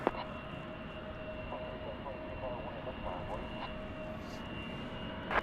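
An Envoy airliner rolls for takeoff on a runway at DFW Airport at night, its engines a steady distant roar running under faint radio chatter and voices.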